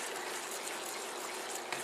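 Milk pours slowly into a bowl of batter for baked cauliflower bites, a steady close gushing splash that holds evenly for the whole short stretch, with no talking.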